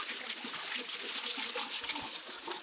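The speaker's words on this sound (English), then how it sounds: "There's this neat little waterfall" A small waterfall spills beside a hiking track through beech forest in Kahurangi National Park, giving a steady, close, broadband rush of falling water that holds at an even level throughout.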